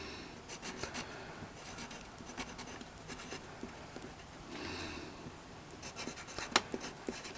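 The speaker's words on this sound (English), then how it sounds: "So first of all, I'll write the name here." A pen or pencil writes a character's name by hand on paper, giving soft, close scratchy strokes in short bursts with small pauses, ending in a few sharper taps.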